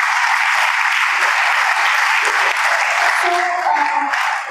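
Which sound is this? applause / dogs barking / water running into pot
applause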